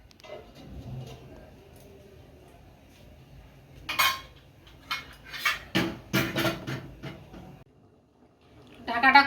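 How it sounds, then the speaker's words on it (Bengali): Lid set onto a metal cooking pot on the stove during a Kashmiri aloo dum and fried rice recipe, giving a sharp clank then a run of rattling knocks and clinks, close and fairly loud, with another clatter at the end. "এবার আমি ঢাকা দিয়ে দেব।"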